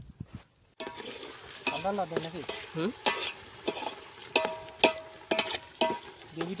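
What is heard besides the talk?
papad frying in oil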